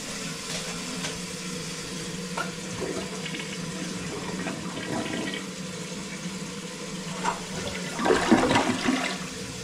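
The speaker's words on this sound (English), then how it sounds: "I just flushed the toilet in the basement" A basement toilet flushes, giving a steady rushing wash of water that swells into a louder gurgling surge near the end, heard close with no talking.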